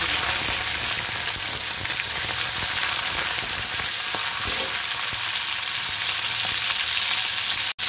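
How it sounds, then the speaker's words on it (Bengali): Prawns fry in hot oil in a pan, making a loud, continuous sizzling hiss with occasional stirring scrapes that cuts off abruptly at the end. "আমি এবার দিয়ে দেবো চিংড়ি মাছ"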